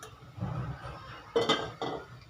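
A metal kadai pan set down on a stovetop, two clear clanks of metal on metal a short moment apart, close and fairly loud, with faint kitchen handling noise around them and no talk.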